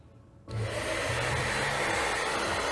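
After a brief quiet moment, a handheld blow dryer switches on and blasts a steady, loud whooshing hum while drying a squishy foam toy, continuing unbroken to the end.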